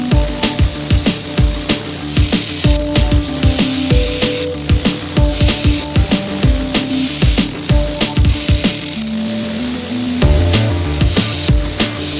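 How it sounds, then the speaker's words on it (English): A chisel cutting out the remaining wood pieces for an electrical outlet pattress, heard as a close, rapid series of sharp scraping and knocking strokes in an uneven rhythm, with no voices. "Remove the remaining pieces with a chisel."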